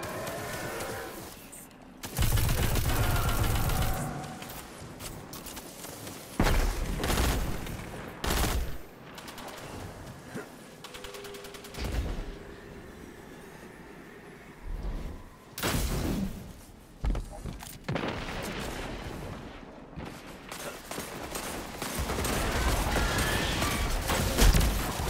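Heavy weapon fire in the shooter game Destiny 2 during a Titan strike boss fight: long, loud bursts of blasts and explosions with short pauses between them, plus mechanical game effects.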